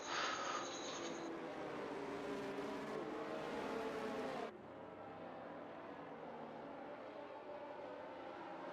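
Formula 1 cars in a racing video game on the Australian Grand Prix circuit during a safety-car tyre warm-up, a continuous engine drone with layered tones from several cars, louder at first then dropping to a steadier, softer hum.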